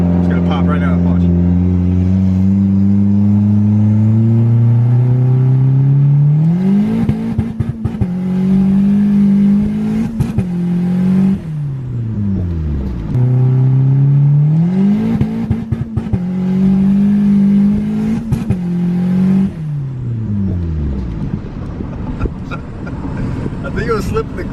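Turbo Honda D16 engine revving repeatedly with the clutch slipping, pitch rising and holding then dropping in several long pulls, loud and close, with people talking over parts of it.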